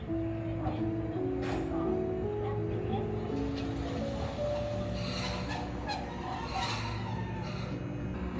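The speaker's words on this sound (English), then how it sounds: "you see the tram just arrived there" A Tokyo streetcar tram stands at Minowabashi station, the end of the line, with a steady low rumble and faint tonal machinery hum while people talk nearby.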